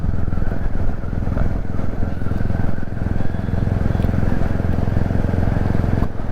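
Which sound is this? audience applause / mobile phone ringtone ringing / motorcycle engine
motorcycle engine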